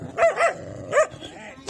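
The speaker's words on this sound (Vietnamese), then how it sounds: "đến đón bé chó già" An old rescued dog barks close by, two quick yips followed by a third after a short pause, harsh and clear against a quiet background.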